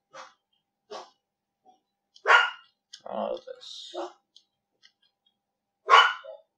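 A dog barks sharply a few times, close by, with short gaps between barks, and a person speaks briefly in between.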